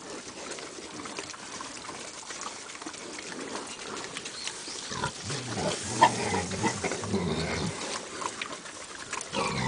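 Hogs on a farm grunt and snort close by over a steady, noisy barnyard background, with a denser run of throaty calls in the middle before it settles again.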